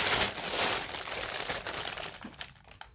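Plastic gift packaging, a bag nested inside another bag, crinkles and rustles steadily as it is unwrapped, loud and close for most of the stretch, then thins to a few sparse crackles near the end with no talking.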